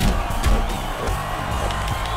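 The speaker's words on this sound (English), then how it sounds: "Look, all these people cheering for me" Crowd cheering and hollering in the Def Jam Fight for NY fighting video game, a loud, dense roar over roughly two seconds with faint talk mixed in.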